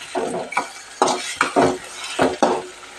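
A spoon stirs chicken keema mixture in a pan, making several distinct scraping clinks and rubs in an uneven rhythm, close and fairly loud, with no talking.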